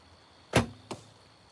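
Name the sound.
arrows knocking against arrows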